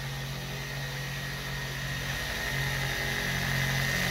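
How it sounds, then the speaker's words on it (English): A machine polisher works a car's paint on a test panel, compounding with a continuous high-pitched whirring whine that stays steady and close, growing slightly louder toward the end. "So right now he's been compounding and polishing a test panel."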